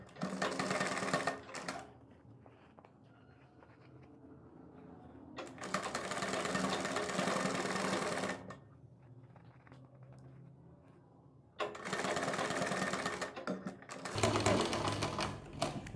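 A sewing machine stitching piping onto a sleeve runs in three sustained, rapid whirring bursts with quieter pauses of fabric handling between them, close and without talk.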